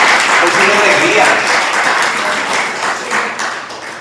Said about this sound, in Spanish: Un aplauso a ese bebé, por favor